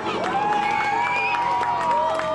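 Crowd cheering and applauding at a professional wrestling show at a county fair, a loud, continuous roar of voices with shouts rising over clapping throughout.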